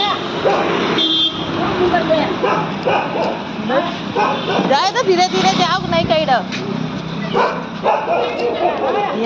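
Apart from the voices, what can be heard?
dog barking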